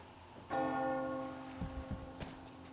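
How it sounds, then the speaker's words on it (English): A church bell rings once in the Metro Exodus video game, a loud sustained tone that rings on and slowly decays, with faint thuds and movement around it. "Do you hear that bell?"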